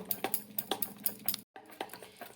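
A whisk beats raw potato batter with water in a bowl, giving quick, evenly spaced light clinks and taps in a steady rhythm, fairly soft and close, with one brief pause before the beating resumes.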